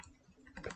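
Typing on a computer keyboard, a brief run of faint, close key clicks lasting under a second, growing slightly busier toward the end.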